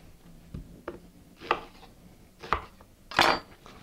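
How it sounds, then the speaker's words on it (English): A knife cutting an onion into quarters on a cutting board, several sharp irregular chops and taps, close and fairly quiet, with the last cut louder and crisper. "then cut the onion into 8 large quarters"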